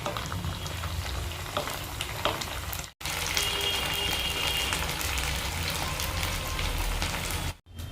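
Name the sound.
chicken frying in mustard oil, being turned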